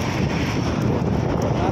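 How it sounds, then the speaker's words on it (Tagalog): Strong wind buffets the microphone in a steady, loud low roar that fills the whole clip, with no clear voice. "Mabit, lakas ang hangin."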